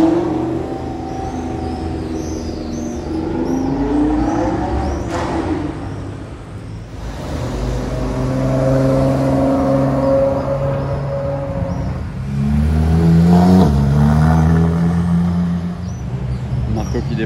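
An Audi R8 GT supercar revs and drives by on a Monaco street, its engine note rising and falling loudly over steady traffic and crowd noise, with people talking nearby.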